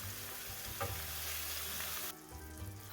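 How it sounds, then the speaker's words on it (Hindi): An Afghani omelette sizzles in a pan over a low-medium flame, a steady close frying hiss with a faint clink partway through and a sudden drop in the bright hiss near the end. "अफगानी ऑमलेट की हमने बुनाई जो है वो मीडियम फ्लेम पे की है। अब हम इसको लो मीडियम फ्लेम पे कर देंगे।"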